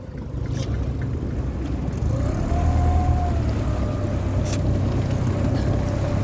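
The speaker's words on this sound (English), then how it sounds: "Keep the RPMs down when you go shift into forward." A sailboat's engine idles steadily after being shifted into forward gear at low RPM, a constant low rumble with a faint whine rising partway through, and no talking.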